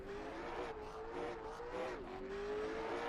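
The number 55 Ford race car holds a steady, droning engine note at a short-track derby, with slight pitch dips as it shifts through a run, heard at a distance and fairly faint, with no talk.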